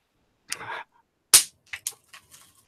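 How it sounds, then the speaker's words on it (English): Snap bang poppers thrown down and popping, a handful of sharp, close cracks at irregular intervals, one much louder than the rest, with silence between them. "These are those snap bang. You just throw them and they pop."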